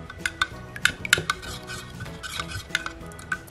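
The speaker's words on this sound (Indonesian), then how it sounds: "Langsung aku aduk-aduk." A spoon stirs a thick liquid glue mixture for making soap bubbles in a bowl, with scraping swirls and a few sharp clinks against the side.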